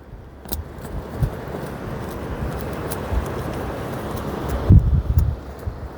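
Strong wind buffets a handheld phone microphone at a seaside spot in Alanya after a flood, a steady rushing roar with sharp low gusts and thumps, loudest near the end.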